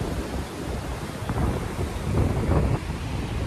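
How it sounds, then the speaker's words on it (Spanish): Strong wind gusts across a beach in Cancún, making a loud, continuous broadband roar that swells and eases slightly, with no voices. "hay un viento bastante fuerte aquí en la playa"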